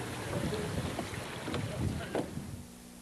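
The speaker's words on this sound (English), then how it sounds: "You hear the rushing of the water underneath the hull. You hear the oars going into the water" Water rushes beneath the hull of a rowing boat as oars dip in, a steady close swish with soft knocks and wind buffeting the microphone, then it eases near the end.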